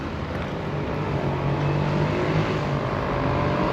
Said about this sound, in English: God, that motorbike's loud